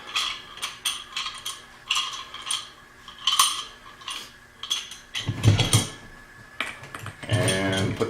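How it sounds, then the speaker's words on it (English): A bench vise being cranked open while fitting a bushing on a Skyjacker 7000 hydro shock: a run of repeated metallic ratcheting clicks and scrapes in irregular bursts, close and fairly quiet, with louder clanking handling noise near the end. "So back your vise all the way out."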